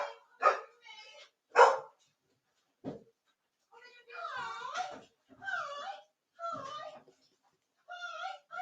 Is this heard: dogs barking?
yes